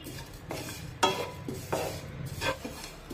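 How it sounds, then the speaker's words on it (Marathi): A spatula stirs grated coconut as it dry-roasts in a pan, with repeated soft scraping strokes at a steady rhythm and a faint sizzle underneath, close by and moderately quiet. "खोबरं सुद्धा उलटण्याने असं एकसारखं हलवून घ्यायचं"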